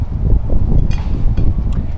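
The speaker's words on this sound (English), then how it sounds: "as you can tell it's windy" Steady gusts of wind buffet an outdoor microphone with a low, rumbling roar and a few brief rustles on top, continuous and close, no speech.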